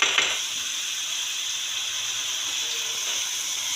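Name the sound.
onions sautéing in a pan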